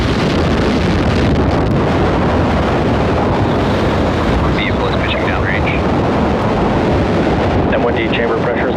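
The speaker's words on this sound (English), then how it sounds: "Engines full power and liftoff of ViaSat-3." SpaceX Falcon Heavy rocket lifting off with the ViaSat-3 satellite from launch pad LC-39B at Kennedy Space Center, a loud continuous rumbling roar that fills the whole clip, with a commentator's voice faintly underneath.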